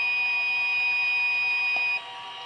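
A steady high-pitched electronic buzzer tone from an embedded control system signals a node fault, sounding continuously, then drops slightly in level near the end.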